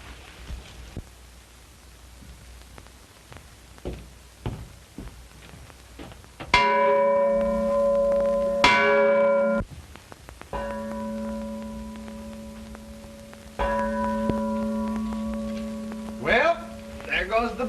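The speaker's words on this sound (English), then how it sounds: "Well, there goes the bell." A breakfast bell rings out loudly in three long bursts of sustained metallic clanging, each burst separated by short pauses and quieter background noise.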